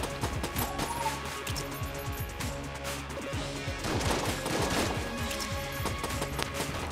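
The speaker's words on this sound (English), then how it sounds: "fire your very slowly traveling bullets in my direction" Enemy gunfire rattles continuously in an action video game, rapid overlapping shots and impacts over a busy, loud background mix with music-like tones, with no pauses.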